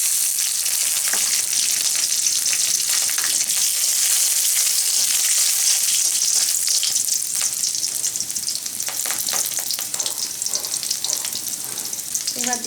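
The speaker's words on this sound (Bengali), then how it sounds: "এখন দিয়ে দিচ্ছি 2টা কাঁচামরিচ।" Two green chilies fry in hot mustard oil alongside garlic and black cumin, making a loud, continuous sizzle with popping bursts and occasional stirring scrapes close by.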